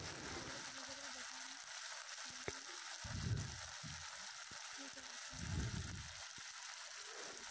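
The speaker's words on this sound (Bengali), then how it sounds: "মশলাটাকে ভালোভাবে কিছু সময় কষিয়ে নেব" Spice paste with turmeric and chili powder fries in a pan, giving a constant close sizzle with occasional soft stirring bumps and low murmurs underneath.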